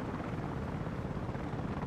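A helicopter in the video game RST makes a steady, dense rotor rumble that drones on without a break and without any talk.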